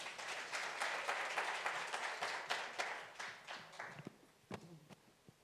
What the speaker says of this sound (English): Won't you give the VP a warm round of applause?